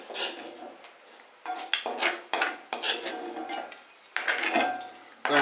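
Roasted coconut scooped out of an iron kadai with a metal spoon while preparing an oil-free drumstick leaf dish: repeated close scraping and clinking bursts against the pan, with short pauses between strokes.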